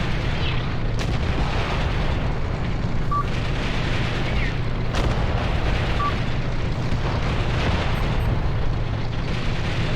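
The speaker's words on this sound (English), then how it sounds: "That's a lot of explosions." Artillery shells bursting in the tank battle game Graviteam Tactics, a dense continuous barrage of rumbling booms with several sharper blasts standing out, loud and sustained throughout.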